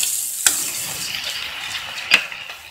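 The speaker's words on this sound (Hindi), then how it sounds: "अच्छे से मिक्स करके थोड़ा भून लूँगी मैं टमाटर को 2 मिनट के लिए" Ground tomatoes fry in a pan for matar tamatar curry, a continuous hissing sizzle punctuated by two sharp scrape-clinks of a spoon stirring against the pan, close and fairly loud.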